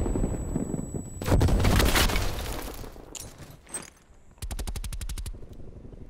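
Gunfire in Call of Duty Black Ops Cold War: a dense burst of shots, a few scattered reports, then a fast, evenly spaced automatic volley, loud and close with little talk.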